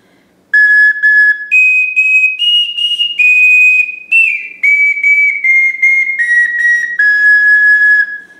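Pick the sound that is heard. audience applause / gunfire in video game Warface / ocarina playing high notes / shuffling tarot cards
ocarina playing high notes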